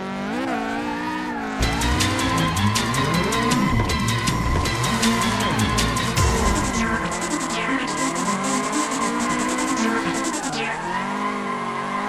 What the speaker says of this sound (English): Everyone agrees that drifting looks coolest at night.